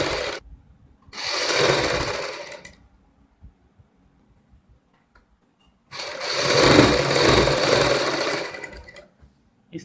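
A sewing machine runs loose basting stitches on a sherwani in two sustained bursts of whirring, each a couple of seconds long, separated by quiet pauses. It sounds close and fairly loud, with no talking.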